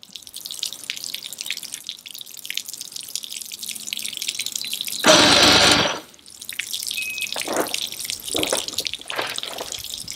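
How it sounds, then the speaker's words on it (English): Water switched on and running at an Evinrude 150 outboard motor, heard as sporadic drips and splashes that break into a short, loud burst of gushing water before the drips return. "I'm going to go turn the water on now."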